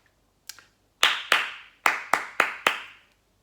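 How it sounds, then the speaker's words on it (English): Two faint taps come first, then six sharp, close hand claps in a short rhythm at a body percussion workshop, spaced in pairs with a brief decay after each and no talk. "I'm going to clap a rhythm, just clap it back."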